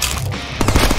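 A loud burst of shotgun fire from the Deadpool video game, rapid back-to-back blasts in the second half of a short moment.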